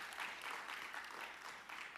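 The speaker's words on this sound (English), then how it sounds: "Give him a clap as he goes back to his seat." Audience applause at a high school fine arts awards ceremony, a steady wash of many hands clapping that fills the whole stretch without voices on top.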